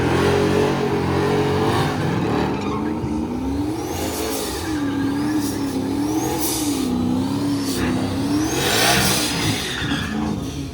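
A loud drag racing car engine roars continuously at a track, its pitch rising and falling as it revs hard and accelerates, with tire squeal and no talking.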